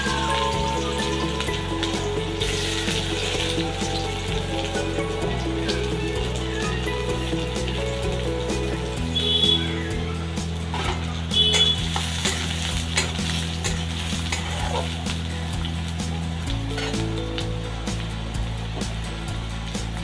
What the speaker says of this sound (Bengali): গরম হয়ে গিয়েছে, এবার আমি এখানে পেঁয়াজটা দিয়ে দেব।